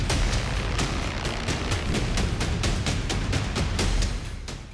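A rapid series of sharp blasts and bangs, roughly a dozen evenly spaced impacts like heavy gunfire or explosions, loud and close in war-related news footage.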